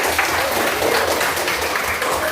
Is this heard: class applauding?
yes